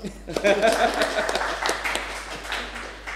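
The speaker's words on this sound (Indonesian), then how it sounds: "Tepuk tangan dong." A live studio audience at a finance ministry podcast taping claps in a brief scattered round of applause, with some talk and light laughter mixed in.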